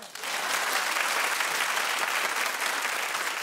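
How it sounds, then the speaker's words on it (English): Sustained applause from a talk-show studio audience, a dense wash of many hands clapping that starts abruptly and holds steady. "Clap if you agree."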